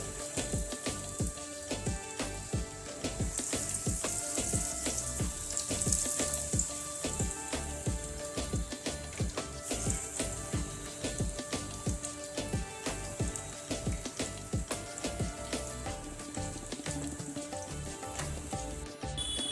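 Spinach and onion pakoras frying in hot oil make a continuous crackling sizzle, steady and close with no talking, plus a few faint kitchen sounds.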